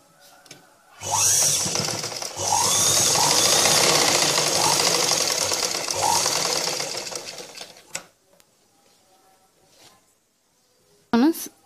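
A sewing machine stitches blouse fabric in quick, loud mechanical bursts, running for several seconds with brief pauses, then stopping. A quiet voice speaks faintly afterward.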